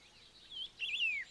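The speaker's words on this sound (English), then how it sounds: "A couple of black-faced laughing thrush sat and chirped on a rhododendron bush" A couple of black-faced laughing thrushes perched on a rhododendron bush in the Himalayan snows of Zuluk, East Sikkim, give two short, thin, high chirps, faint and distant against a quiet background.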